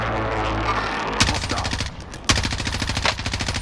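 Rapid automatic gunfire in the shooter game Warzone rattles out in two dense bursts, loud and close, after a low rumbling lead-in.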